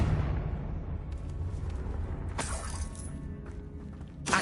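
The Confringo fire spell bursts in Hogwarts Legacy inside a tomb, giving a sustained rumbling roar with a bright crackling shatter midway and another burst at the end.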